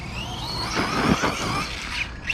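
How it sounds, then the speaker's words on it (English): An Arrma Kraton 4S V2 RC truck with KCRC upgrades drives fast while bashing, its motor whining and tires squealing in a steady, fairly loud buzz that swells and rises over a couple of seconds. "Thing's so fast for such a little truck"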